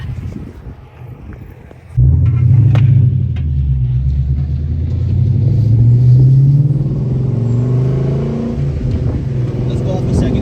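A Ford Mustang GT with a Coyote V8 and Cobra Jet intake manifold launches hard in second gear from a 40 mph roll, a sudden loud rumble that climbs steadily in pitch as it pulls, heard close from inside the car.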